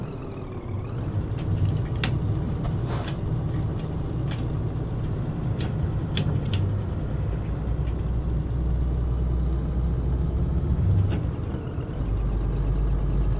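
A heavy Scania truck rolls downhill in a driving simulator game, its engine a steady low drone with rumbling road noise throughout, punctuated by a few sharp clicks and hisses like air brakes.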